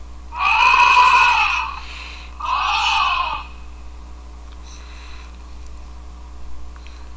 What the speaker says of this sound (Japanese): 動物の鳴き声でゾウさんの声。